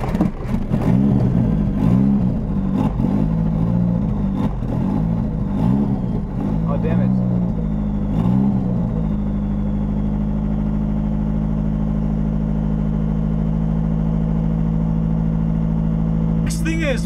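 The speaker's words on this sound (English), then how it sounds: "We let hit the fuel pump, one time, two times maybe, and then I try to start the car." A car engine with a fuel-pump fault cranking, sputtering and revving unevenly in repeated bursts, then settling into a steady loud idle, close by with a person talking over the first half.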